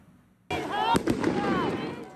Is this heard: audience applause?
no